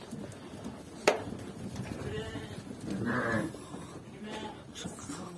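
Sheep and lambs on an elite Arashan breed farm bleating several times, faint and somewhat distant, over low background noise and a sharp knock, with a person speaking at moments.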